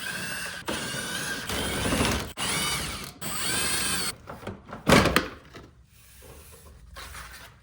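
Ratchet wrench removing 8mm screws from the under tray of a 2.0T Saab 9-3, loud rapid clicking in several bursts separated by short pauses, then looser rattles and a clunk, close up with no talk.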